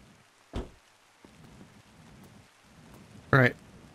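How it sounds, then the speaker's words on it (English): Rain falls in the driving game The Long Drive as a soft, steady patter. Two sharp, louder bursts cut through it briefly. "It's raining."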